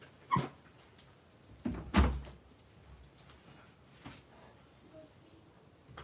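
A couple of muffled thuds and a knock as a door opens to let a puppy out, followed by quiet shuffling in a hushed room.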